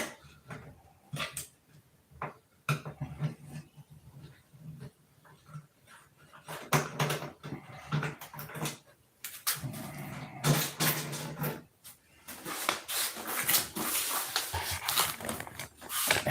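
A puppy whimpers and yips in repeated short bursts close by, with panting and scuffling between cries, building in intensity toward the end.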